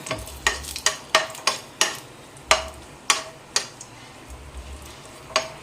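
Nuts fry in a pan for Onam palada payasam under a quiet sizzle, while a spoon scrapes and taps the pan in a regular rhythm of sharp clicks, close and without talk.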